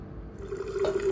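Homemade black raisin wine poured gently into a jar, a short soft liquid trickle and fill sound, quiet and close with no voices.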